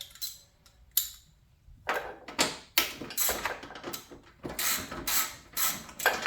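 Clicks and ratcheting turns of a 4 mm Allen hex key loosening a bolt on a side cover of a Suzuki V-Strom motorcycle, in a series of short, close metallic bursts with brief pauses between them.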